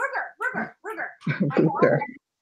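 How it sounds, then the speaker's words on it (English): An indoor dog gives a quick run of six or seven close, sharp barks and yips, loud and clipped with short gaps between them. "I think he's barking because of the voices"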